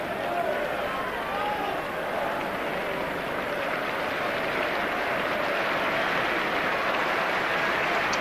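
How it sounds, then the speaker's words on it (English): A football stadium crowd at Arsenal against Liverpool keeps up steady, broad applause for a substituted player leaving the pitch, with a commentator talking over the dense wash of clapping. "Applause all around the ground for Perry Groves as he is about to disappear down the tunnel now"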